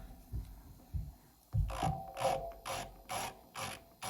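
A high-pitched electric nail drill whirs around fingernail cuticles in several short bursts with brief pauses between them, close by, without any talking.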